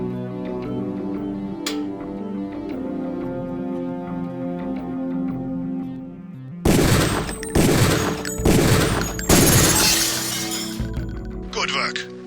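After a stretch of talk over steady background tones, about four loud, sharp gunshots ring out at a rifle range in Deus Ex training, spaced roughly a second apart.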